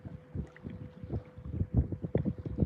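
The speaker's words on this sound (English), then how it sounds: "Hopefully y'all not hearing all that wind. It's kind of windy out here." Gusty wind buffets the microphone on a fishing boat out on choppy water, irregular low rumbling bursts of wind noise rising and falling over a few seconds, with no one talking.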